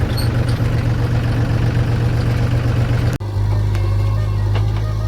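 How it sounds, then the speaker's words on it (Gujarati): A JCB excavator's diesel engine rumbles steadily and loudly at close range, its deep low drone continuing throughout, with a brief dip midway before the engine noise resumes. "પાછળ જીસીબી આવે છે"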